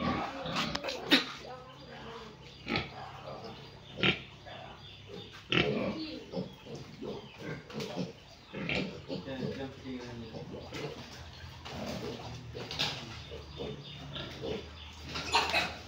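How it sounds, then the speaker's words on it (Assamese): Piglets grunt and squeal intermittently close by as they are given iron injections, with people talking over the animals throughout. "ইয়াতে গাহৰি আছে বহুত"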